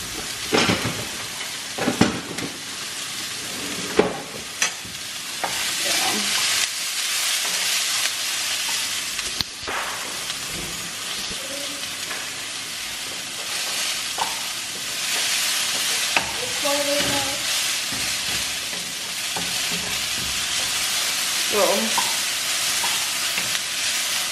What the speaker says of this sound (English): So these are being sauteed.